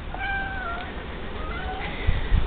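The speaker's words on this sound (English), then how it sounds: "There's the baby kitties." Thin, high meows from young cats come in a few drawn-out calls over steady outdoor background noise, with a couple of low thumps near the end.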